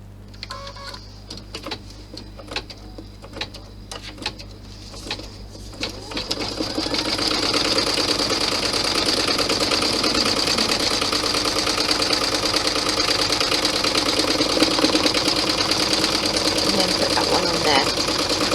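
A few separate clicks and short sewing machine bursts under a voice, then the machine runs loud and continuous, stitching the fabric lining down inside a Santa bag.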